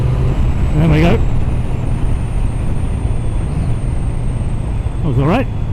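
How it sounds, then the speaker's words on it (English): 2013 Triumph Daytona 675 motorcycle accelerating in sixth gear on a road, a steady loud engine drone with wind noise throughout; a voice speaks briefly near the start and again near the end. "I'm going to try a really simple roll-on test from 30 to 60 in 6th gear."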